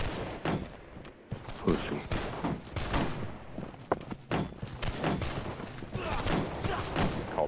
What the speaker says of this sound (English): Flash your fire at will!